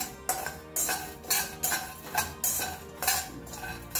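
Rice grains and peanuts dry-roasting in a pan, stirred with a metal spoon: a steady run of rhythmic scraping and rattling strokes about twice a second, close and fairly loud, with no talking.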